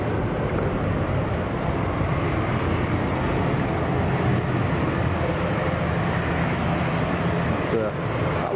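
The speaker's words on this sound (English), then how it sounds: "Next to go, the KLM Embraer E2" KLM Embraer E2 jet departing Manchester Airport for Amsterdam, a steady broadband engine roar heard at distance throughout.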